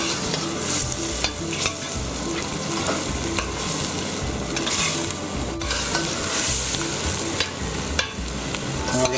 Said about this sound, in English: we're going to just add the snails to the garlic butter and shallots, and we're just going to cook them for a couple of minutes